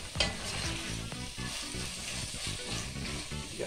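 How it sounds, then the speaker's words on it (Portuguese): Shrimp sautéing in dendê oil with garlic and onion give a steady, close sizzle and crackle, with faint stirring scrapes and no talk. "Vamos refogar tudo."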